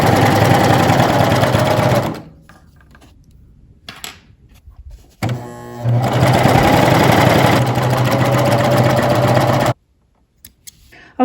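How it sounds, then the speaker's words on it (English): A coverstitch sewing machine runs chain stitching in loud, fast, steady mechanical whirring bursts, stopping for a quiet gap then resuming with a clattering start, ending abruptly in near silence. "I've completed the chain stitching."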